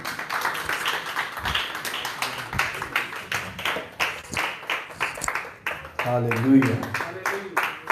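A church congregation claps loudly for God during a Hindi worship service, a brisk run of overlapping handclaps mixed with voices, a person's speech rising toward the end.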